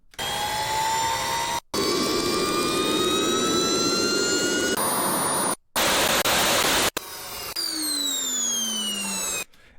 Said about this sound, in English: I found this section of the jet engine that I really liked, which was kind of this this constant pitching down